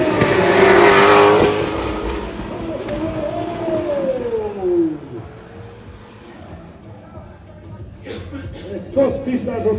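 Drift car rounding a corner during a twin-battle practice session, engine note sweeping and falling as it passes, loud at first then easing off, with voices talking over it.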